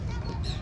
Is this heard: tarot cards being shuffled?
no